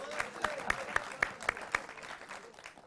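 Clapping breaks out in a television political debate studio: about seven sharp, evenly spaced claps at a brisk steady pace over a low murmur, then they fade out.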